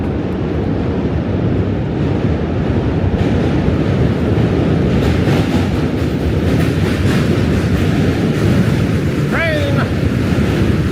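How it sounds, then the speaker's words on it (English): A loud train rumbles past close by in Manhattan, with broadband roaring and rattling and a brief high squeal near the end. "Yeah, that train made some weird noises."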